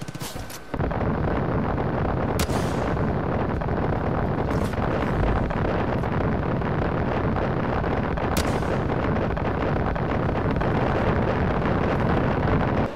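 Continuous heavy rumbling blasts from a cluster rocket launcher in the video game Far Cry 5, a dense, loud roar of explosions with a few sharper cracks, with no talk.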